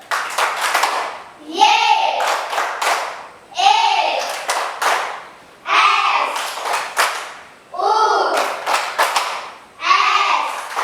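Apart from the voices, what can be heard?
class clapping the 'tepuk Yesus' clap routine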